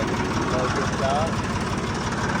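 A tractor engine idles at a farm field, a steady, fairly loud low rumble with a faint knocking pulse that continues for the whole stretch.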